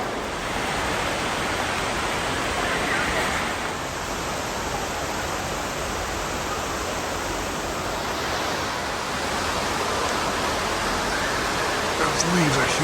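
Indoor waterfall inside a rainforest greenhouse, a steady, loud broadband rush of falling water filling the space without break, with faint voices underneath.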